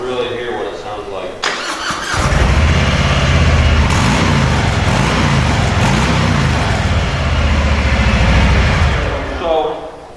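A Harley-Davidson Softail motorcycle with its stock exhaust starts up and settles into a deep, even idle close by, its rumble held steady for several seconds before it fades at the end.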